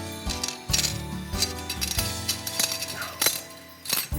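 A locking ring on a Lyndall crown-cut brake rotor pops free, and the metal parts clink and rattle apart in a series of sharp, close metallic knocks and jingles.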